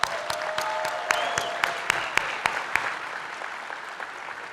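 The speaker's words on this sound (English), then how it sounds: "Give them a round of applause." Audience applause at a 2019 leadership awards gala, a steady wash of many hands with a few sharp, nearby individual claps standing out, then gradually thinning toward the end.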